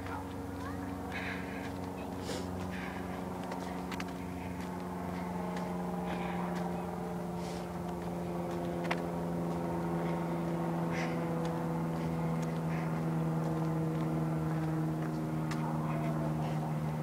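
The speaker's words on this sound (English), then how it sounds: "Airplane." A steady low engine drone hums throughout as an airplane passes overhead in a park, with scattered light clicks and rustles nearby.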